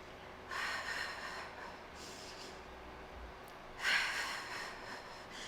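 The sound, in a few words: deep breathing during yoga exercise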